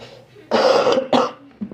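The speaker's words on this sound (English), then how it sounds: "Sorry for the coughing and all the lovely sounds." Two bursts of coughing and throat clearing from a nearby person at a self-care session, followed by a faint short throat sound, against quiet room background.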